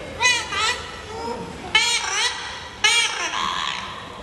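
An Amazon parrot at a bird park in Singapore mimics a human voice saying a welcome phrase, heard as three short, bright, voice-like bursts with gaps between them and no other talking.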